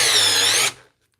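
A DeWalt cordless drill running in speed 1 drives a screw home with a loud, close whine that holds steady, then winds down and stops abruptly, followed by silence.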